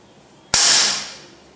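A single sharp shot from a PCP air rifle firing Pro Hunter pellets, a sudden crisp crack with a hissing decay that fades over about a second, loud and close.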